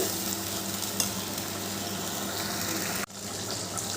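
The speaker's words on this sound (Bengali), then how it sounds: "এবার একটু নেড়ে চেড়ে ভালো করে মিশিয়ে দিচ্ছি" Soybean kofta curry being stirred and mixed in a pan with hot water, a steady close scraping and bubbling texture with a brief clatter near the end, no talking.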